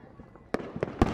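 Fireworks bursting at night: three sharp, loud bangs about a quarter second apart, following a quieter stretch of low background rumble.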